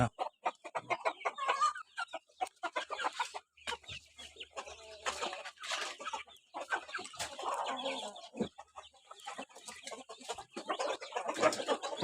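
Young chickens around nine to ten months old, Burmese fighting-cock breed, cluck and call busily at evening feeding, many overlapping close clucks in an irregular stream with no talking.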